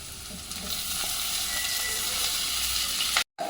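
Onions, tomatoes and green chilies for a beetroot curry sizzle steadily in a hot pan with a few stirring scrapes, a close, continuous frying hiss that cuts off abruptly near the end.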